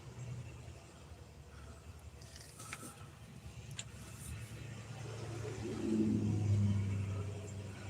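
Engine of an old American car running, a steady low rumble with mechanical creaks that swells louder toward the end.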